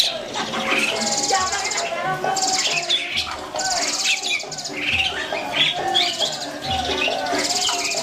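Many caged songbirds at a breeding farm, including starlings, magpie-robins and white-rumped shamas, chirp and twitter at once, a busy, continuous chorus of high calls close by, with low background rumble underneath.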